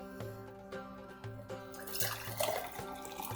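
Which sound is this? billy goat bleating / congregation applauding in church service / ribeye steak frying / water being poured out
water being poured out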